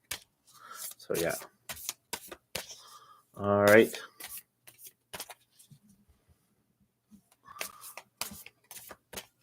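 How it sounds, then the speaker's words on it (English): Tarot cards shuffled in short, crisp bursts during a live reading, with one louder riffling flurry in the middle, set among brief spoken remarks from a nearby voice. "put them back in, shuffle them all up."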